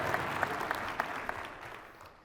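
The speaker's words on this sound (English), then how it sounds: "If one person claps, we all clap." Scattered applause from a keynote audience at an insurance agent event: a handful of sharp, separate claps roughly every third of a second that thin out and fade away, fairly distant in a large room.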